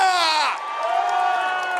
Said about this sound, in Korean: 다시 한번 기분 좋은 사람 소리 질러!